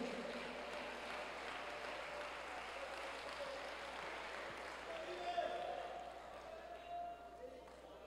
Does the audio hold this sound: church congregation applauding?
yes